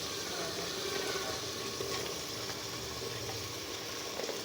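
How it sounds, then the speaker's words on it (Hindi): Ridge gourd pieces land in spiced masala in a clay pot, setting off a continuous soft sizzle and bubbling hiss, fairly quiet and even throughout. "अब इसमें डाल देंगे घिया तोरी।"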